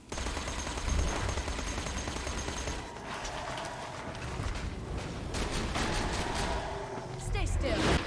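Sustained automatic SMG fire rattles in Borderlands, a dense continuous stream of shots in a few long bursts with short breaks, loud and close over layered game effects.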